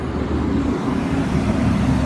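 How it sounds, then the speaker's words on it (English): A big blue city bus rolls past on a rain-soaked Southern California street, a steady low rumble and swish of wet tires mixed with general roadway traffic, continuous and fairly close. "There's a big blue bus that just came by."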